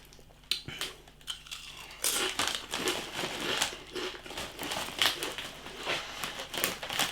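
Doritos Flame Grilled Steak crisps crunched and rustled in the bag, with irregular crisp crackles and crinkling bursts, close and fairly quiet, with no talking.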